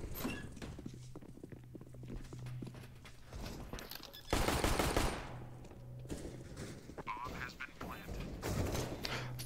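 Gunfire in the game CS:GO, with bursts of rapid shots among footsteps and other game sounds, one heavy volley in the middle, while people talk quietly in the background.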